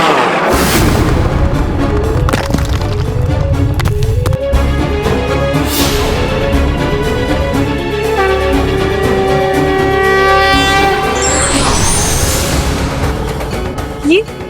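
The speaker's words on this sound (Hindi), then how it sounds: "ये कैसा विस्फोट है माता?" A dramatic explosion effect from a Hindi mythological TV drama booms heavily over swelling orchestral music, with a deep rumbling low end that carries on under the score.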